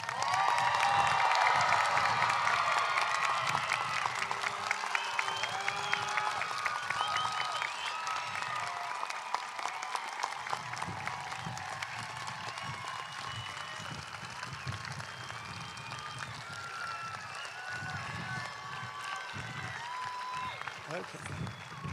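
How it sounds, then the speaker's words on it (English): A large commencement audience at the University of Maine at Farmington applauds the new graduates, with dense sustained clapping and scattered cheers and whoops, loud at first and gradually thinning, with voices mixed in. "Please join me in offering the new graduates a rousing round of applause."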